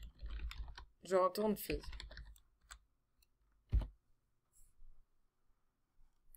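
Rapid clicking of a computer keyboard while someone codes, light key taps in short bursts near the mic, with brief muffled speech and long quiet gaps between.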